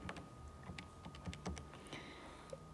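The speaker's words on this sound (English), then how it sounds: "We would type that into our calculator." Fingers tapping out numbers on a calculator's keys for a geometry tangent problem, a quick irregular run of light plastic clicks, close and alone with no talking.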